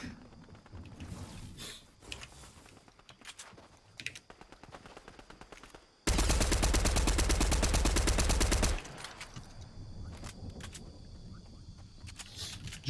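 Gunfire in the video game Fortnite comes as a dense, loud burst of rapid shots lasting a few seconds, surrounded by quieter keyboard-and-mouse clicking and mechanical game sounds.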